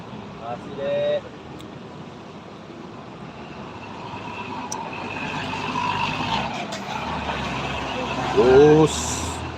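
A bus passes on the steep, winding Sitinjau Lauik mountain road, its engine rumbling steadily against continuous traffic noise, with brief louder tonal bursts near the start and the end.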